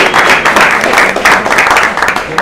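Loud, close audience applause, a dense continuous wash of many hands clapping with no voices over it.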